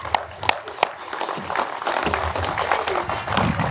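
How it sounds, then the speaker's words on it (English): Audience applause at a police headquarters ribbon-cutting ceremony in Lubbock: a few sharp early claps swell into steady, dense clapping from a crowd that continues to the end. "Give me a round of applause."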